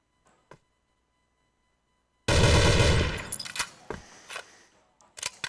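A loud burst of rapid gunfire erupts after a near-silent stretch during a competitive shooter match. Scattered sharp shots and clicks follow it.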